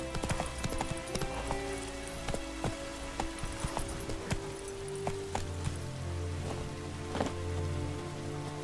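Roach the horse trots in The Witcher 3, with a run of clip-clop hoofbeats sounding fairly close against a steady patter of rain.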